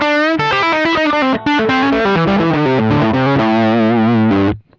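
A loud, distorted electric guitar through a Sonicake Sonicbar Twiggy Blues pedal at full volume plays a descending run of sustained notes with heavy effects, ending abruptly.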